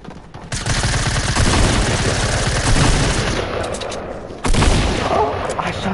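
Rapid video game gunfire bursts fill a duo match, loud and continuous with a brief gap near the end before another burst, while players talk over it.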